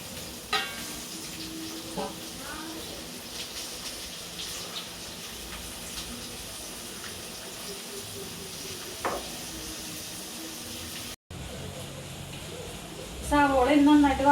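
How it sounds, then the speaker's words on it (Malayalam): Onion, green chilli, ginger, garlic and curry leaves sauté in hot oil in a home kitchen, with a continuous sizzle and occasional stirring clinks. A louder, brighter burst of frying comes near the end, with no talk heard. "ഇത് നമുക്കിനി സവോളയും പച്ചമുളകും ഇഞ്ചിയും വെളുത്തുള്ളിയും കറിവേപ്പിലൊക്കെ ഇട്ടിട്ട് വഴറ്റാം"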